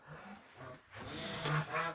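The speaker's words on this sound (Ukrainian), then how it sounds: "Це в мене пекінські качки." Pekin ducks in a small backyard flock call with a few nasal quacks and honks close by, mixed with soft rustling and faint low background noise.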